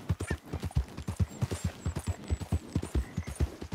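A horse gallops in the Red Dead Redemption 2 video game, its hooves pounding in a fast, steady, loud rhythm with no talking.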